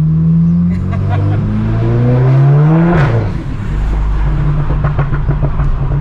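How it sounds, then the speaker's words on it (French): A Golf 7 GTI Performance with a Stage 3 tune pulls hard, its engine note climbing loud and close, then lifts off and drops into a burbling run of soft exhaust crackles and pops. "C'est l'un de ces deux, un Pops & Bomb soft."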